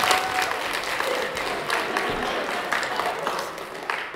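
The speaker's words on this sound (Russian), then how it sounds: "давайте поаплодируем" Dense, even applause from an audience in a university lecture hall during a finance quiz event, sustained at a steady level throughout with no breaks.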